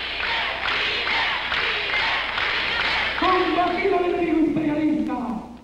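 A crowd fills the streets of Havana with continuous cheering and shouting, a broad roar of many voices that swells partway through as louder tonal calls and chants rise above it.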